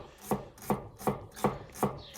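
A knife slices spring onion very finely on a cutting board in five evenly spaced, crisp chops, close and clear, each cut followed by a brief soft rasp, with no talking.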